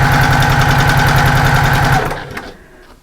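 A sewing machine stitches a short back stitch with a fast, loud, even mechanical chatter up close, then cuts off after about two seconds, leaving a faint thump and quiet room tone.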